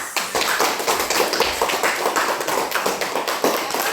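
A classroom of students applauds steadily, with dense, fast hand claps holding at an even level throughout and no pauses.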